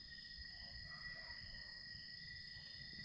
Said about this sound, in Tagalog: Sarap lang pakinggan ng mga kuliglig.